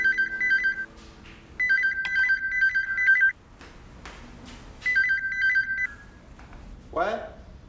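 Three bursts of rapid telephone keypad tones are dialed on a phone in a Taiwanese TV drama, close and clear, with brief pauses and other faint sounds between them and a short rustle at the end.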